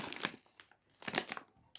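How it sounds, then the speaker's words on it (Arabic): Crinkly plastic snack bag of cheese-flavoured Toys City Brooo chips torn and rustled open in short bursts, crackling close and fairly quiet with brief pauses between pulls. "نفتح تالت كيس"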